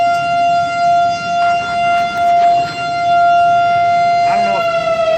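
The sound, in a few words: civil defense air raid siren test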